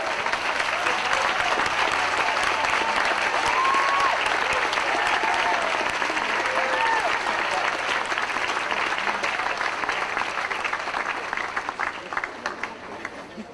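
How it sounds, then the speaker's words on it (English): A commencement audience at the USC School of Policy, Planning and Development's 2006 ceremony claps in a dense, sustained wave of applause that holds steady and loud for over ten seconds, then begins to thin toward the end, with faint voices mixed in. "give them a round of applause"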